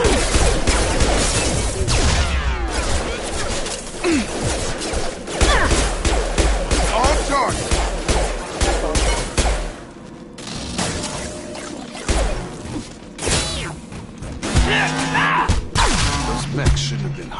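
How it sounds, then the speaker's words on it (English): Gunfire rattles in bursts during a Mass Effect 2 firefight, mixed with crashes, impacts and game effects, while voices talk over the action. "Shoot them before they take out the shield. Firing."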